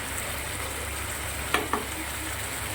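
Spices with turmeric fry in a pan, giving a steady close sizzle broken by two sharp clinks of a utensil.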